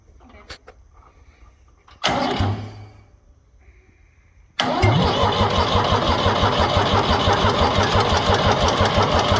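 Ford 3000 tractor diesel engine cranking over briefly, falling quiet, then catching and running with a loud, steady rhythmic knock that continues to the end; a voice is heard faintly before it fires.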